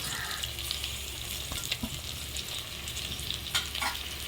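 Steady sizzling and frying of tomatoes, coriander and green chilies in a pot for mutton biryani, with occasional stirring scrapes and clinks, close and continuous.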